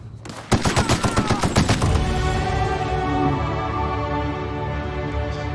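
Rapid gunfire from a gun in The Outer Worlds, a burst of about a dozen loud close shots in quick succession, then a ringing, echoing tail that lingers.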